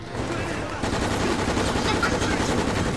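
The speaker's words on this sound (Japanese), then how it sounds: "手榴弾行くぞ。" Rapid automatic gunfire and combat noise from the Resident Evil: Operation Raccoon City video game, loud, dense and continuous bursts filling the whole stretch with no clear single grenade blast.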